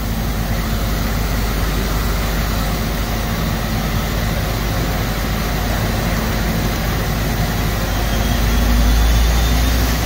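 A Doosan Puma 240M lathe spindle running at maximum RPM with a spindle liner and bar stock inside, a continuous loud, even machine hum and whir with a low drone, steady throughout with no speech.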